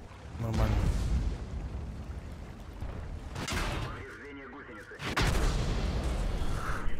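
Tank cannon shots in a tank battle video game, booming heavy blasts near the start and again around three and five seconds, with low rumbling between them under a loud, dense game mix.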